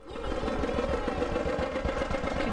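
A cartoon tractor engine in a preschool educational game chugs steadily with a low, rhythmic putter and mid-range drone, loud and continuous throughout, with no talking.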